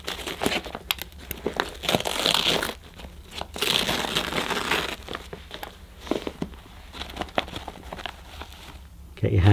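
A full dust bag from a Halo Capsule X bagged cordless vacuum is cut open and rummaged through by hand, giving steady close crinkling, crumpling and tearing of paper with scattered debris rustles while a person talks.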